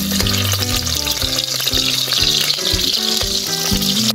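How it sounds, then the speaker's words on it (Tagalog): Chopped onion sautés in a small amount of oil, a loud close sizzle and crackle that runs steadily throughout with faint clinks, no talking. "at magigisa na po tayo. Maglagay tayo ng mantika, konti lang. Maglalagay tayo ng sibuyas."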